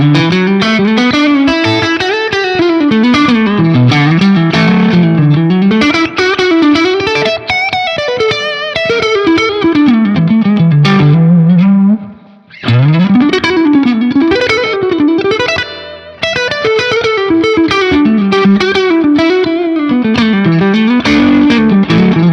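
Electric guitar through a Laney Lionheart Loudpedal, loud driven tone with fast melodic lead runs and bends, a brief pause midway, then more rapid overdriven phrases, close and continuous with no talking.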